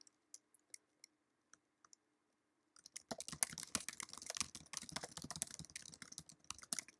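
A few isolated key taps, then a rapid, dense burst of typing on a computer keyboard as an essay is written, close and crisp with no talk.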